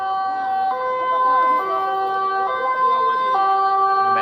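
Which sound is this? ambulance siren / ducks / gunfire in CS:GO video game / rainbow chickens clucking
ambulance siren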